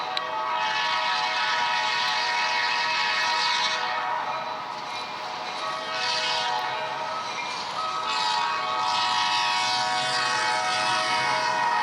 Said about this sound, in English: That horn is really annoying.